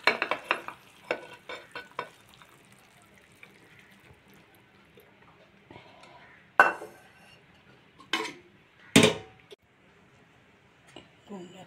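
Pumpkin curry (kumror chhokka) is scooped from a pan into a bowl: a handful of sharp spoon-and-metal clinks and scrapes come close and loud, separated by quiet gaps with a faint background hum.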